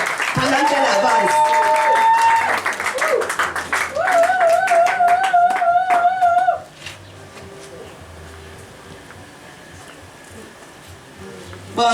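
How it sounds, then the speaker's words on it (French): A church congregation applauds and cheers for a woman walking forward during a testimony service, with loud, continuous clapping and voices for about six seconds before it drops away to a quieter room. "Acclamez très fort pour elle pendant qu'elle avance."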